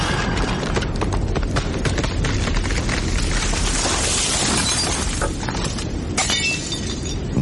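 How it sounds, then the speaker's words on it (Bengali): A tree cracking and crashing down in a storm, staged as a sound effect for a Bengali radio horror drama: loud splintering snaps and shattering crashes with heavy rumbling throughout, no voices. "বাইরে কোথায় যেন মড়মড় শব্দে একটা গাছ ভেঙে পড়ল"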